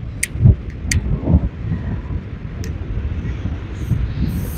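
Wind blows outdoors, rumbling and buffeting the microphone in low gusts with a couple of stronger bursts early on, along with a few faint clicks.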